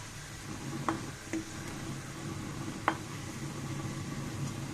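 Faint, steady sizzle of egg pitha made with flour and egg frying in oil over low heat, broken by a few soft clicks and taps, with no talking.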